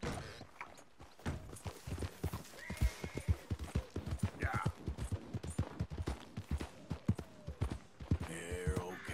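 Horse hooves clip-clopping in a steady walking rhythm in the Red Dead Redemption 2 video game, close and distinct, with brief snorting and a few faint background sounds.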